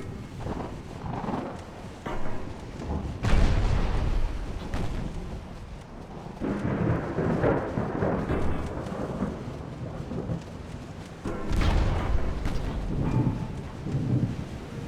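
Rain falls steadily during a storm in the naval battle game Ultimate Admiral Dreadnoughts, with several loud rolling thunder cracks and rumbles rising over the constant hiss at intervals.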